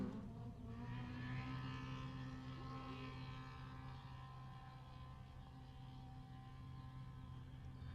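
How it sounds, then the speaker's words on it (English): Off-road UTVs, including a Polaris RZR, race on a desert rally stage in Baja, giving a faint, steady engine drone from a distance that rises slightly in pitch. "Listen to the combination of the UTVs, and then also hearing some big horsepower as well."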